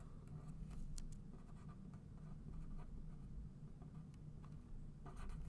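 Marker or chalk writing on a board during a math lesson on graphing quadratics, faint scratchy strokes and taps under a steady low background hum, with no speech.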